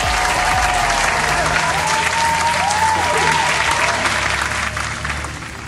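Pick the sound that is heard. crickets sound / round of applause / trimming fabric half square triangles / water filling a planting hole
round of applause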